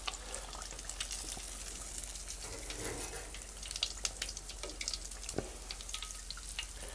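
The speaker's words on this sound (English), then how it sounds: "Now that our oil's good and hot, we're going to go ahead and drop these in batches at a time, fry them about 3-4 minutes." Meat pies fry in hot oil in a black iron pot outdoors on a porch, a continuous bubbling sizzle with scattered pops and crackles, no voices.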